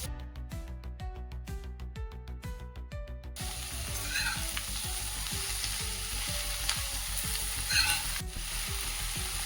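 Chopped spinach sizzles and is stirred in a pan with tomato for a spinach chutney, beginning with rhythmic utensil taps before settling into a steady close frying crackle that runs throughout without talk.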